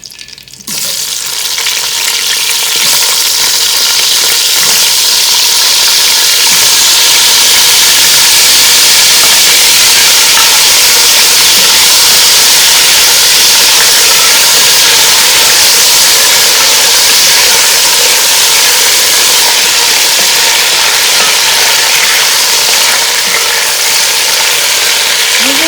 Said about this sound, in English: We will let it fry potato probably few minutes until it gets little bit soft.